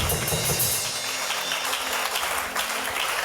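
A church congregation applauding loudly and steadily to acclaim the Lord, a dense crowd clapping that fills the room without a break.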